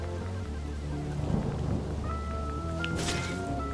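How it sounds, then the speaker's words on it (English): Thunder in a video game demo, a low rolling rumble with rain-like hiss and some game tones layered over it, steady and moderately quiet. "Are we actually hearing thunder?"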